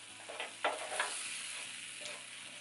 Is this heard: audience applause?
no